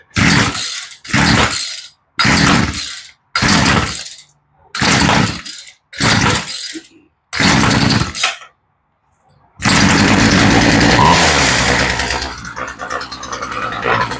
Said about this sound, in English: Better turn the choke off.